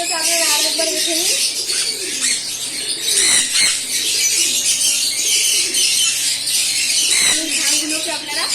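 Fantail pigeons and their chicks coo and rustle close by in a bird setup, with continuous chirping and a few flutters, while someone talks over them.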